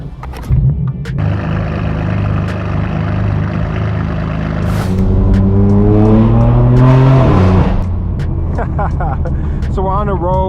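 Loud, throaty exhaust from a straight-piped BMW M4 F82 droning steadily while driving, rising into a harsh revving blast midway before settling back, with a voice speaking briefly over it.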